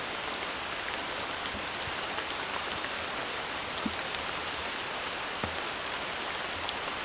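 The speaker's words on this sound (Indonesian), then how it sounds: "hujannya lebat" Heavy rain falling at night in a forest campsite, a dense continuous hiss of drops with occasional sharper nearby drips, steady throughout.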